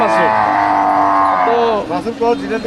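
Dairy cows and calves at a cattle market in Mymensingh moo loudly and close, one long drawn-out low followed by shorter wavering calls, with faint crowd murmur underneath.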